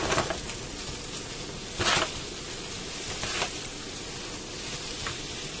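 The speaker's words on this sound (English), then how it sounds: "I'm going to melt this butter down and soften the onions." Two large onions softening in melted butter in a pan, giving a steady close sizzle and fry with a few brief louder crackles and stirring bursts.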